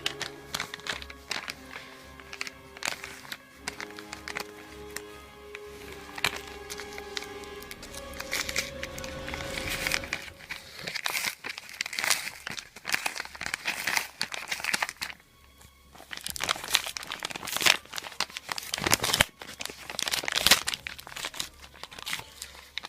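Crinkly plastic packaging around a Scream 3 Ghostface mask being handled and torn open, with close crackling, rustling and tearing in irregular bursts and a few taps, no voices.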